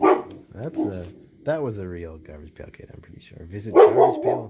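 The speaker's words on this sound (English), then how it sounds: "Oh, sorry about my dog in the background there." A dog barks a few times in the background, partly buried under someone talking continuously in the foreground.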